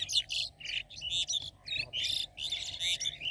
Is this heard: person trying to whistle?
no